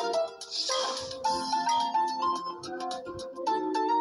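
Mobile phone ringtone playing a bright electronic melody of repeated short tones, clear and fairly loud, heard alone during a game of UNO.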